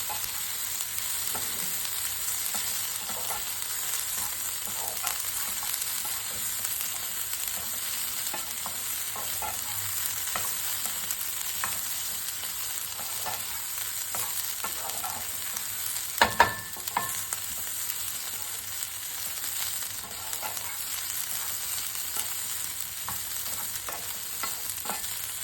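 Wet grated coconut roasting in a pan on low flame while being stirred, a faint continuous sizzle with soft scraping strokes and one brief louder clatter partway through.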